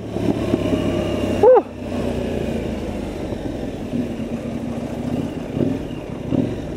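KTM Duke 990 twin-cylinder motorcycle riding, a steady engine drone with a brief rising rev near the start, then a continuous road rumble with small surges.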